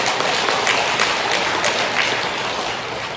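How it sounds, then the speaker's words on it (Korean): Dense, steady applause from a church congregation clapping for their spouses, a continuous wash of many hands that stays loud throughout and tapers slightly at the end. "우리 배우자들을 위해서 박수!"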